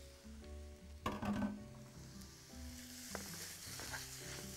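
Minced meat and onions fry in a pan with a steady crackling sizzle, punctuated by a burst of louder spattering and stirring clatter partway through, with faint tonal hum underneath.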